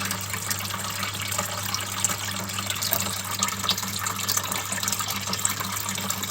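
Water pours steadily into a turtle tank, a close, continuous gushing splash with a low hum underneath and no breaks.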